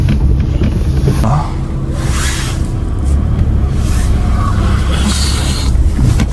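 A car being driven and parked, its engine rumbling steadily at close range with a brief rise in revs, heard alone without talk.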